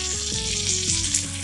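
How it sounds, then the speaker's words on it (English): Three medium onions hit hot oil with ginger-garlic paste for a dhaba-style green peas masala, giving a steady, close sizzle and crackle with faint stirring scrapes. "Now in this, I'm going to add 3 medium sized onions"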